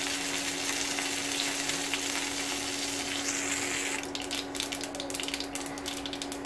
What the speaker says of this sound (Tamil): கடுகு கருவேப்பிலையும் பொரியட்டும்.